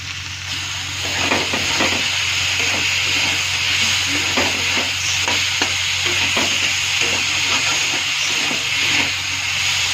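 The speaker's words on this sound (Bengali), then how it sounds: "এটা একটু ভাজা ভাজা করে নেব।" Chopped tomatoes frying in a pan with salt and spices give a loud, steady sizzle and hiss, with a spoon scraping and stirring in a fairly regular rhythm close by.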